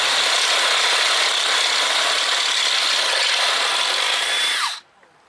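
A small bit drilling into aluminum on a 25 hp Evinrude outboard, a steady loud whine for almost five seconds before stopping abruptly, followed by near silence.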